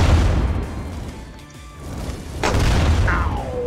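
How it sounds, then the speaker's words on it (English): A flamethrower trap explodes in the castle level of the video game Tribal Hunter, with a loud, heavy boom and rumbling burst over steady low game noise. "but I ended up getting hit by the explosion."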